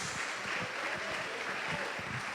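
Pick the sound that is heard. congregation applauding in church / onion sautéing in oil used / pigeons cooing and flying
congregation applauding in church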